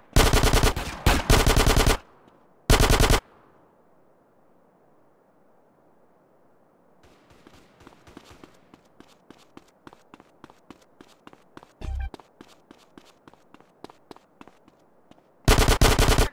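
Gunfire in GTA San Andreas: loud automatic bursts open the passage, another burst follows shortly after, then a long stretch of faint rapid clatter, and a final loud burst closes it, with no voices.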